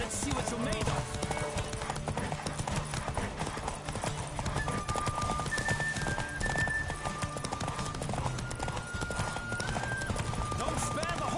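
Rapid clip-clop of galloping hooves during a horse race runs throughout, with an occasional whinny, under continuous game music and background chatter, from the video game The Witcher 3.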